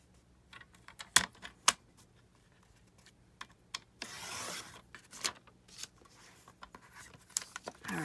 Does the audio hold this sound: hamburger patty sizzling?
no